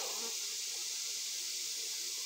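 Honeybees buzzing around a swarm, a steady dense drone of many wings that is faint and continuous throughout.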